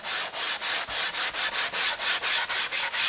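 Wood being sanded by hand with 80-grit sandpaper in quick, even back-and-forth strokes, about a dozen rhythmic rasping passes, close and loud, with no talk.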